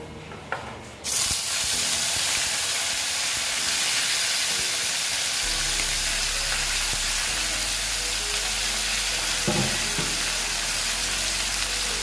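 Tangra fish frying hard in hot oil in a wok, a loud, dense, continuous sizzle that bursts in suddenly and then holds steady with brief crackles and pops.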